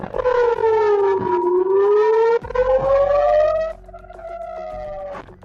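An air raid siren wails in northern Israel during a Hezbollah drone attack, its loud tone sliding down and back up in long sweeps before dropping to a steadier, quieter wail.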